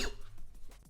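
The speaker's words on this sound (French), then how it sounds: "Excusez-moi de tousser." A person coughs once sharply at the start, a brief rough burst followed by a few softer breathy throat sounds, close to the microphone with no talk.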